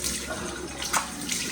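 Cold water runs from a tap as someone washes their face, a close, continuous splashing stream with small bursts from hands in the water.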